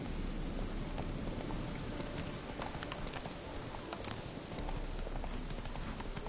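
Hooves of Geralt's horse Roach clip-clopping in The Witcher 3, a fast, steady run of soft thuds over a dense background wash, moderately close and continuous.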